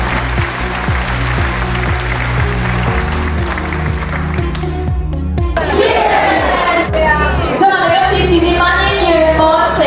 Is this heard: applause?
yes